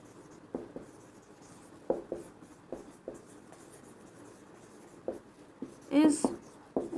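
Chalk taps and scratches against a board in short, separate strokes, with a few sharper knocks, heard alongside a voice talking through a chemistry lesson.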